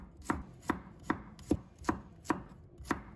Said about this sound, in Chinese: 把它切成片